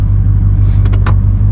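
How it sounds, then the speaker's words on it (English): A 1999–2007 Chevy/GMC pickup engine idling close and loud, a steady low rumble with faint clicks and light rattles over the top, no speech. "Now you can start your truck and you can put it in gear."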